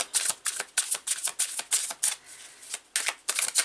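Tarot deck being shuffled up close: quick riffling bursts of card flutter in an uneven rhythm, pausing briefly midway, then resuming, with no talking.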